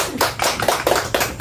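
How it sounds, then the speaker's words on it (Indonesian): Applause from a classroom of children and their teacher, a dense, steady clatter of many hands clapping together, close and fairly loud, with pulses every fraction of a second. "Hebat, tepuk tangan untuk kita semua."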